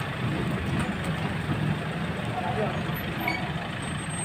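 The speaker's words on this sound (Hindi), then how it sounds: "गाड़ियों का काफिला है।" A convoy of trucks and other vehicles on a Karni Sena procession idles steadily nearby, a low continuous engine rumble holding even throughout with faint voices underneath.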